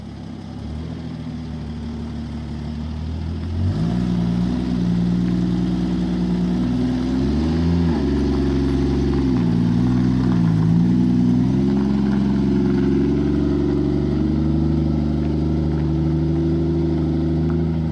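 A 1967 Jeep Gladiator, dormant for over 30 years with 6K original miles, idles steadily, then its engine revs up and the note wavers as it pulls out of a garage, running close and alone.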